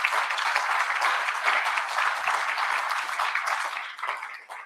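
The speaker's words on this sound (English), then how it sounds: "Let's please give them a massive round of applause." A conference audience in Namibia applauds a headline sponsor with brisk, loud clapping from many hands that swells, stays strong, and tapers off near the end.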